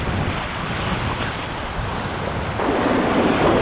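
Dagger Nomad whitewater kayak out on moving water, with a broad wash of rushing water and wind that swells louder near the end.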